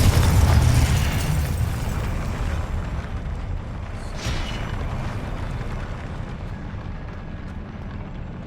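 A Confringo explosive spell cast in Hogwarts Legacy bursts loudly right at the start, then fades into a long rumbling roar that slowly dies away. No one speaks.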